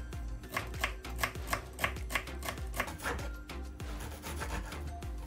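A knife chops onions on a cutting board with quick, even taps in a steady rhythm, quiet and close, with no talking.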